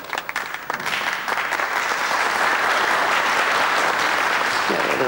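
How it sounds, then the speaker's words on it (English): A big round of applause from an audience in a 1980s school comedy setting, swelling from a few scattered claps into full, loud, steady clapping that carries on to the end. "Let's have a big round of applause for Gillian!"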